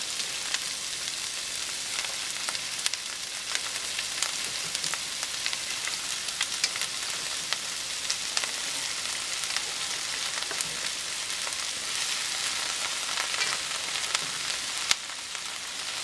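Stir-fry vegetables added to shrimp fry in a pan, a steady close sizzle with scattered crackles and spits running throughout, with no talk over it.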